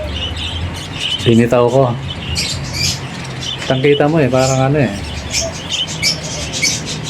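Pet budgerigars in a new cage give sharp repeated squawks and chirps in two short bursts, close and loud, while someone talks over them.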